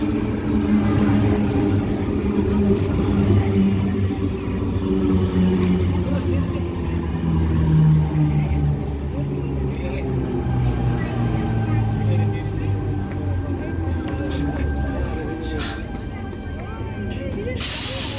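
Sydney suburban train set T31 pulls into Wahroonga station, a loud steady rumble and hissing brakes with a descending motor whine as it slows, a brief high tone and clanks near the end, voices talking throughout.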